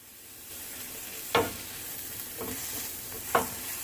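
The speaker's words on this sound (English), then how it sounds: "So I'm going to continue sauteing these mushrooms for around 5 minutes" Shiitake mushrooms sautéing in a pan over medium-high heat, a low steady sizzle broken by a few sharp scrapes of a utensil, close but fairly quiet.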